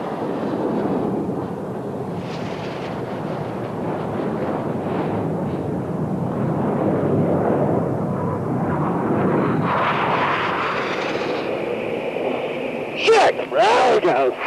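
Red Arrows jet aircraft performing a flying display, with the synchro pair starting their separate act: a loud, sustained engine roar that swells and shifts, ending with sharp, brief bursts.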